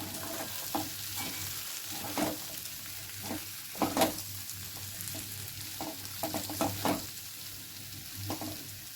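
Potato aloo fry sizzles in a pan with a steady quiet crackle, broken by scraping stirs at irregular intervals, close and fairly soft, with no talking.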